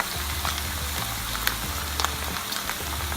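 Pumpkin and vegetables stir-fried in a pan, a steady close sizzle and crackle with faint clicks of stirring running throughout, no voices.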